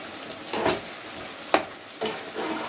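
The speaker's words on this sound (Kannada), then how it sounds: "ಖಾರ ಪುಡಿ ಹಾಕಿ ಒಂದು 5 ನಿಮಿಷ ನೀಟಾಗಿ ಮಿಕ್ಸ್ ಮಾಡಿ ಬೇಯಿಸ್ಕೋಬೇಕು" Chicken biryani masala frying in a pan as chili powder is stirred in: a steady low sizzle broken by four scraping stirs of a spoon against the pan, close by.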